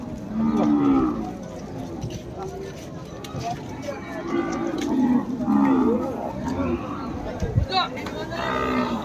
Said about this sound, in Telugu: ఆవులు చాలా వచ్చినాయి ఈరోజు.